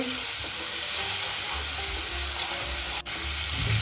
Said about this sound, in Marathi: आता आपल्याला इथे टोमॅटोची पेस्ट पण छान परतून घ्यायची आहे।